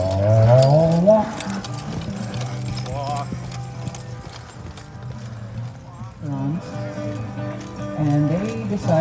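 Draft horse hooves clip-clop in a steady walking rhythm, close by, while people talk over the plodding steps.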